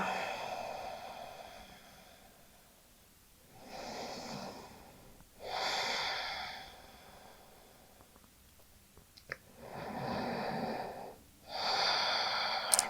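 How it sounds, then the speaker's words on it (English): Deep breathing held in a yoga pose, slow alternating inhales and exhales about two seconds long, close and fairly loud, with no talk. "A few more breaths here."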